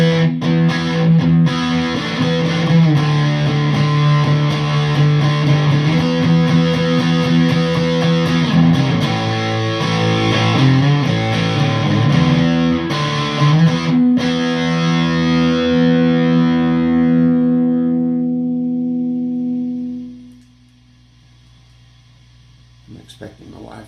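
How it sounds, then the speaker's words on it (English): Overdriven Ampeg Jupiter 42/B-42X amplifier carrying a gritty, distorted guitar with sustained chords and notes, loud and close, before the sound rings out and fades to a low hum near the end. "It's going to get a little more overdriven"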